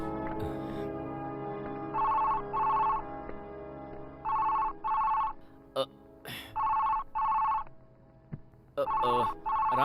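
A telephone bell rings in repeated double bursts, loud and clear, with short pauses between rings and a few brief knocks and thumps in between.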